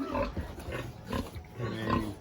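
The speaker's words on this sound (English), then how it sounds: "They're big pigs." Large, content pigs of around 350 to 400 pounds grunt low and close in a farm pen, with several overlapping rumbling grunts in an irregular rhythm.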